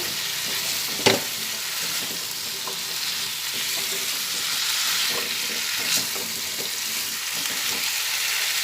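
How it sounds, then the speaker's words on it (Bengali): Cut pumpkin is stirred in a frying pan, a steady close sizzle with occasional spatula scrapes and one sharp knock near the start. "কুমড়োটা দিয়ে নাড়াচাড়া করে দিচ্ছি"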